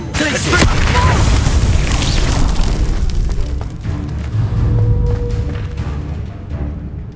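Heavy booming fire-spell blasts from Hogwarts Legacy rumble loud and continuous, with layered crackling bursts and a dense low roar that barely lets up, with some faint voice-like game sounds underneath.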